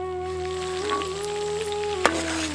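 Mutton meatballs fry in hot oil with a soft, steady sizzle and faint crackle, heard close under a constant low hum with one brief clink partway through.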